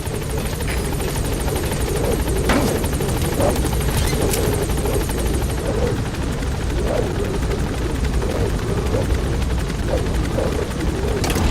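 Helicopter gaining altitude in Metal Gear Solid V, a steady loud rotor thrum with continuous engine whine filling the whole stretch, close and unbroken.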